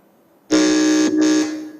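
A quiz show contestant's buzzer being tested, one loud, close electronic tone that sounds abruptly, dips for an instant, then holds for just over a second before stopping.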